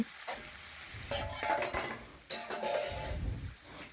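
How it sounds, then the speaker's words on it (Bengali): A spoon scrapes and clinks against a pan while vegetables are stirred and sautéed for a Bengali vegetarian side dish, with two bursts of close metallic stirring and a soft sizzle underneath. "এবার আবারও নাড়াচাড়া করে একটু কষে নিচ্ছি সবজি"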